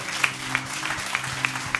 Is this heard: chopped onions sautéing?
no